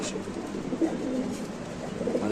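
Mundian pigeon cooing softly in a steady low murmur, with faint background noise and no talk.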